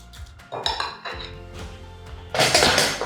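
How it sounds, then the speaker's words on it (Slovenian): Yogurt being stirred in a bowl, a spoon scraping and clinking against the bowl in irregular strokes, growing louder and more clattering near the end, close and with no talking. "Jogurt malce razmešamo."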